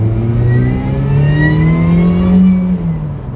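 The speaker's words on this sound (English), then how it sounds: "I love the exhaust." A supercharged Mazda MX5 NA engine and exhaust pulling hard through second gear, a loud close-up rising drone that climbs in pitch, then eases off at the end.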